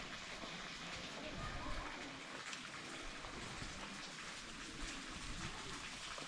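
Rain falls steadily during a severe storm in the nomadic region of Iran, a soft continuous patter and hiss on surfaces, faint and even throughout.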